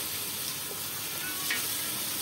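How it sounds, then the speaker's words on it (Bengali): Potato pieces fry in hot oil for biryani, a steady soft sizzle and crackle that runs evenly throughout without speech. "এগুলো একটু একটু হালকা করে ভেজে নিব।"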